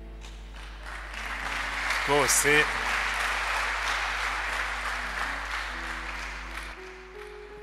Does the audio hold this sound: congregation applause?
yes